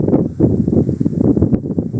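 Wind buffets the microphone at a seaside viewpoint high above the beach at Hua Hin, a steady low rumbling gust that swells and dips throughout with no one talking.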